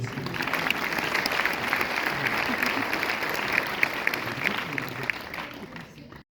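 Steady, sustained applause from a cinema audience at a film premiere at the Pathé Boulogne, a dense wash of clapping that holds at an even level for several seconds before tapering off at the end.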